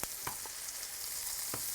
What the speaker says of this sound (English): that's what we do when we melt some fat here